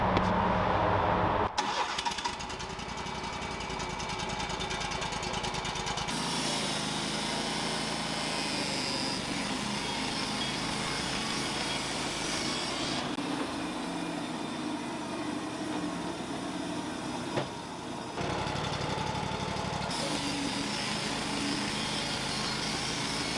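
A sawmill engine labours while its blade cuts through a log. It drones continuously and loudly, and its pitch and load shift in several distinct stages across more than twenty seconds, with no talk.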